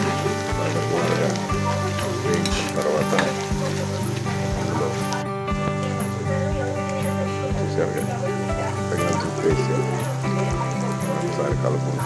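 Spiced mixture frying in a pan, a steady dense sizzle and crackle running continuously, close and loud, with a few faint clinks over it.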